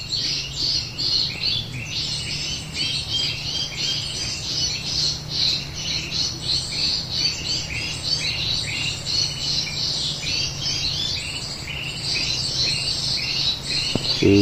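A flock of birds squawks and chatters continuously, noisy and overlapping, with a steady insect-like buzz underneath.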